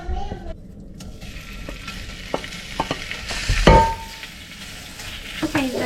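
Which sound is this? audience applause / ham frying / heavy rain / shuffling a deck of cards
ham frying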